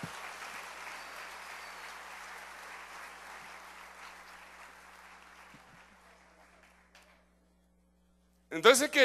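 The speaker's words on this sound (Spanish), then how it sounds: "Denle un aplauso al Señor" Church congregation applauds, broad steady clapping that slowly fades out over several seconds into silence, followed by a short burst of loud sound at the end.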